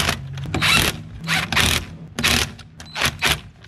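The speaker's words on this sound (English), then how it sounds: "Snug it up and torque it." Wheel lug nuts are snugged and torqued on a 1993–1997 Toyota Corolla during a rear drum brake job: four close, rasping mechanical bursts in an uneven rhythm with short pauses between them.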